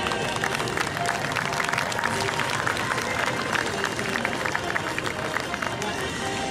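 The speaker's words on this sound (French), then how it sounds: "on peut également les applaudir" Crowd at the Melun Air Legend 2023 air show applauding the Patrouille de France, a steady wash of distant clapping and crowd noise running throughout under outdoor ambience, with some voices mixed in.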